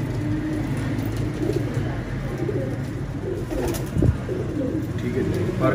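A golden Teddy Qasoori pigeon coos softly nearby in low, throaty rolls, over a background of distant hum and faint traffic.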